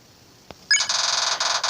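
A phone call ringing in the video game Undertale: after a faint click, a loud electronic trill repeats in fast pulses, close and clear over near silence.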